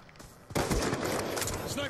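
Gunfire in Call of Duty Black Ops 4 multiplayer on the Slums map: a sudden loud burst of shots after a quiet lead-in, continuing as sustained rapid fire with layered game sound effects.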